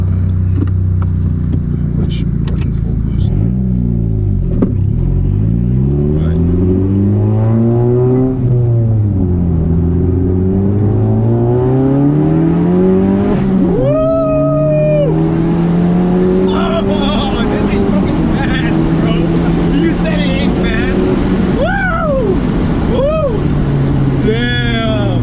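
Nissan 370Z drift build accelerating hard from inside the cabin, engine revs climbing and falling repeatedly through gear changes, loud and close, with people talking and shouting over it.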